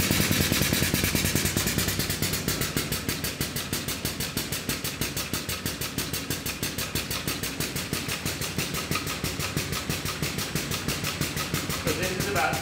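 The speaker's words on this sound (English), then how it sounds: "And then I'm going to turn on the pump now." A pump on a pressure filtration system kicks on and runs steadily, a fast, even mechanical pulsing that continues for several seconds at a constant level, with a slight shift in tone near the start.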